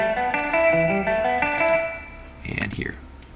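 Electric guitar mix recorded in Logic 9 through a small British Vox-style amp model with chorus and delay, with a short melodic line of clean, shimmering notes fading into a brief noisy burst.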